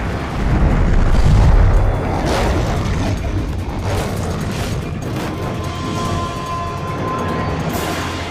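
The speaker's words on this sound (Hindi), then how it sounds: "टारगेट उड़ा दिया गया है।" In a Hollywood action film, a bridge target is blown up with a loud, deep boom that rolls into a long, sustained rumble of debris and blast noise lasting several seconds.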